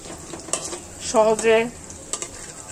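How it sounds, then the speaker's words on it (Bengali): Steady sizzle of thin strips of chicken breast frying in a pan, with a couple of brief clinks and a short vocal sound rising over the hiss. "চিকন চিকন করে ভাজা করে নিচ্ছি"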